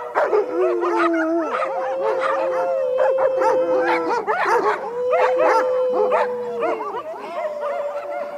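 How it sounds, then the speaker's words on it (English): Guard dogs bark and howl together in drawn-out, wavering howls mixed with yips and barks, loud and close, several animals overlapping throughout. "Mathias and his dogs are here"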